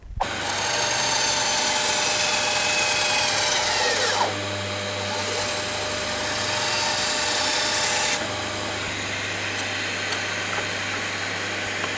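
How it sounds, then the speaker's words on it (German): A Parkside band saw cuts upright through a block of wood about 8 cm thick, a loud, steady whining rasp running for several seconds, easing briefly, then returning as the blade continues. "Wir sägen jetzt nochmal wirklich 8 cm oder irgendwas in der Nähe hochkant durch"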